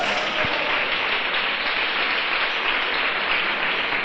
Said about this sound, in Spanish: ¿No le das un aplauso a Jesucristo?